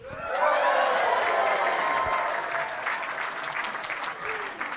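Award ceremony audience of finalists breaking into sustained applause and cheering, a dense wash of clapping that holds loud and steady for several seconds before easing slightly.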